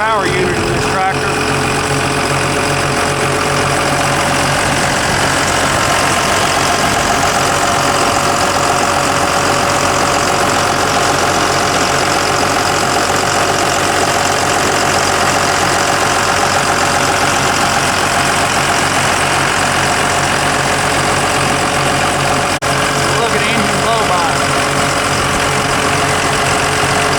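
A freshly rebuilt power unit in a Caterpillar 648G III skidder tractor idles steadily and close by, a constant mid-range diesel drone with faint knocking, holding unchanged for the whole stretch.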